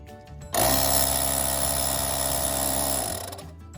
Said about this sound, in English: Get your compressor, put that little air tip on, put it right into the inlet, and turn it on.